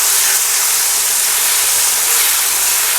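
Tomato paste made from fresh tomatoes hissing and sizzling loudly in hot oil with frying chicken for Delhi-style chicken changezi, a continuous dense sizzle from start to finish.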